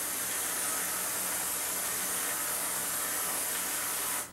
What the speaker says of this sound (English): So I got the trusty old aerosol can.